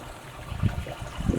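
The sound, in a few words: pouring vinegar onto Epsom salt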